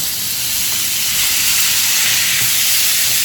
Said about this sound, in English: Alright, now I'm gonna add the steak in